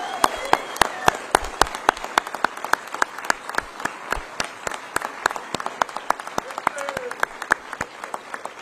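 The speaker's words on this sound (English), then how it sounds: "please give a big round of applause to all of our inductees to the Toledo Hockey Hall of Fame" Crowd applause for inductees at the 2024 Toledo Hockey Hall of Fame ceremony, with sharp, close individual claps standing out over a steadier clapping bed, fairly loud throughout.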